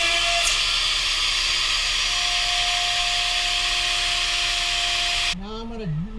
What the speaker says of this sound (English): I'm going to drop a router in here and freehand that out